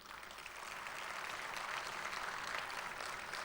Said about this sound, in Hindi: भरपूर तालियों में इनका स्वागत हो जाए